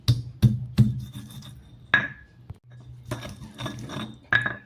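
Candlenuts and spices being ground by hand for an Indonesian grilled chicken rice dish, with scraping strokes and sharp clinks of a pestle against a hard mortar, a few distinct knocks spaced across a short, close span.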